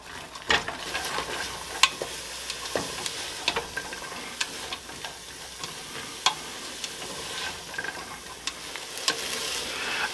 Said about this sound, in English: we're just going to stir these and saute them until they're soft